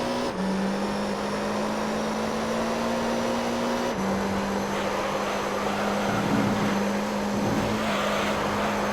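Race car engines in Gran Turismo 3 drone steadily at high revs, the pitch holding and then stepping down after a shift, with a fainter second engine note rising and falling in the background.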